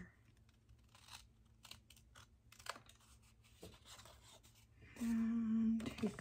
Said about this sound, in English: Now what I'm gonna do is take my scissors. I'm just gonna cut right there.